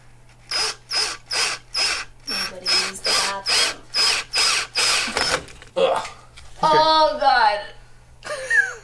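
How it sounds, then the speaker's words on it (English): A power drill bores into a rotten cast iron drain pipe, whining in a dozen short, evenly spaced bursts. A voice then speaks close by. "I'm going to try drilling it and just getting the drill bit in there and then pulling it out with the drill bit."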